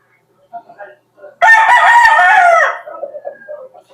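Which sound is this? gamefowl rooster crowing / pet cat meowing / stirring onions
gamefowl rooster crowing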